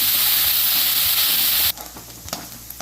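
Onions and curry leaves fry with turmeric in a pan, a loud steady sizzle and stirring for nearly two seconds that suddenly drops to quieter, scattered crackling.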